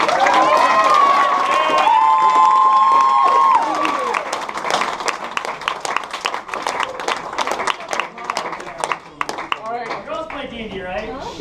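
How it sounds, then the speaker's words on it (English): Audience at a live comedy Dungeons & Dragons show bursts into applause and cheering with whoops, then the clapping turns into loud, scattered hand claps, with voices and shouts over it. "let's get in a round of applause"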